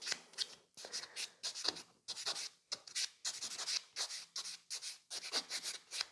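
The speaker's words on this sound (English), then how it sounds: "Then I'm just buffing it." A fingernail with gel polish being buffed with a nail buffer, giving close, quiet rhythmic rubbing strokes in short bursts with brief pauses between them.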